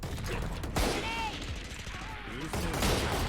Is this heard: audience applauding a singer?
no